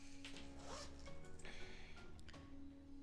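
A zipper on a Tombow pencil case is pulled open in several short rasping runs, close and fairly quiet, over a steady low background hum.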